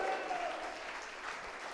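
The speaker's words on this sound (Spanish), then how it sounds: "dele más fuerte el aplauso al Señor" A church congregation claps steadily through a worship service, a dense, even wash of applause that holds for the whole short stretch with no clear voices on top.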